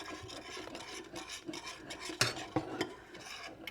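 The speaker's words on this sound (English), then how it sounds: "Now we're going to stir that real good." A spoon stirring cayenne pepper into cheese sauce in a pan, with close, repeated scraping and rasping strokes and a couple of sharper knocks against the pan, no talking.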